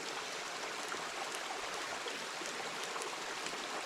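A woodland brook flows steadily in the wilderness, giving a broad, even rush of water with light splashing textures and no voices.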